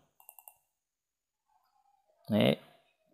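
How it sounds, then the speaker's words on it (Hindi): Short computer mouse clicks in plant control software for an Aquarius RMC batching plant: a quick run of four light clicks, close and fairly faint, followed later by a louder burst of a voice speaking. "यहाँ पे मुझे थोड़ा देर क्लिक करना है यानी तीन सेकंड दो सेकंड क्लिक करना है"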